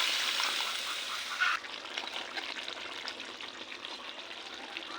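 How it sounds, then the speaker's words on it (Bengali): Water poured into a hot pan of potato, eggplant and chicken-feet curry sets off a loud hissing sizzle with a brief sharp burst, then settles into a steady, softer crackle. "এখন সামান্য পানি দিয়ে দিব।"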